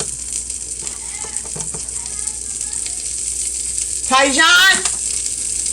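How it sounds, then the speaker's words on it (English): Sausages frying in a pan in a home kitchen, a continuous hiss of sizzling fat running steadily beneath a woman calling out a name midway, close and moderately loud. "So now we got our sausages going"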